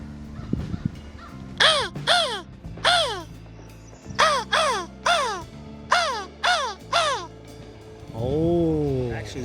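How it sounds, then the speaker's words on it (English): A crow in a forest, agitated by a hawk hunting high overhead, gives a series of loud, close, harsh caws in an irregular rhythm, about ten calls with short gaps, then a longer drawn-out call at the end. "actually the crow was upset because there's a hawk up high hunting"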